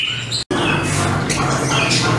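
Caged birds at a bird shop selling finches give a few loud, harsh squawks and calls, close and sharp, broken by a brief silent gap.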